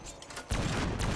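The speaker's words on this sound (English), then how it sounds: "I actually really like this sweeper gun. The shotgun." A sweeper shotgun fires in a zombies video game, one sharp loud blast hitting midway and carrying a dense burst of noise to the end, with a quieter rumble before it.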